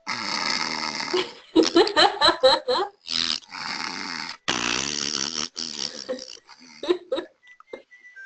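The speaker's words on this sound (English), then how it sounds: "How else does a slime snore?" A slime creature snoring in a video game, giving loud, bubbly, gurgling snore bursts in an uneven rhythm with short pauses between them.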